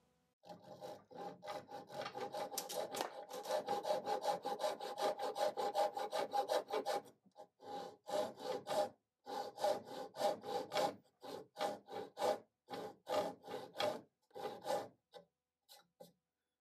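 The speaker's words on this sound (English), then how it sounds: "I love the accuracy of cut I can get with this Dizuki saw" A Dozuki saw cuts an angled repair in wood on a broken desk, giving a steady run of close, rhythmic rasping strokes that then break into shorter bursts with brief pauses.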